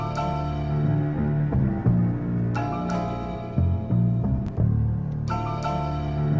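An MPC sampler plays back a musical sample pitch-shifted down two semitones, keeping its tempo: a steady, loud harmonic loop with bass and chords, rhythmic hits and swells, heard alone with no talking.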